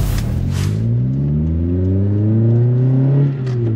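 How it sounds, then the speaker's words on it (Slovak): Toyota Corolla TS engine revving with the exhaust opened, a loud rising mechanical roar climbing steadily in pitch over several seconds, then easing slightly at the end, no talk. "Ten zvuk, že keď ten výfuk je otvorený, tak je paráda."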